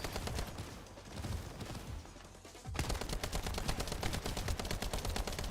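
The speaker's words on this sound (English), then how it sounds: "They do like a double shotgun blast." Rapid gunfire in the video game The First Descendant, with an enemy's shotgun blasts rattling off in fast, loud bursts that pause briefly and then resume in a dense rhythmic volley.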